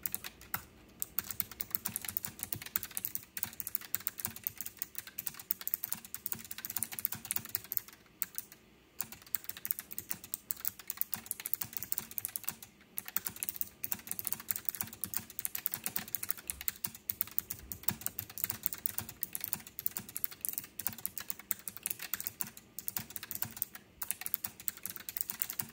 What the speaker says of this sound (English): I'm going to try to type gently.